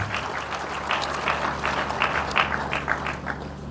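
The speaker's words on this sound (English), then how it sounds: "Can we please give a sounding applause?" An audience at a university inaugural lecture applauds steadily, dense overlapping clapping that carries on unbroken and fairly loud for the whole stretch, with no voices over it.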